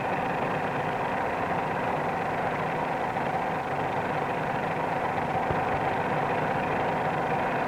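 A steady, droning light-aircraft engine runs continuously at a strained, even pitch, working harder in a climb than in level flight, with no voices or breaks.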